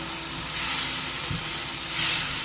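A steady, loud hiss and sizzle as chili powder is mixed into hot oil in a pan for restaurant-style kadai paneer, with a faint scrape of stirring partway through; close, continuous, no talk.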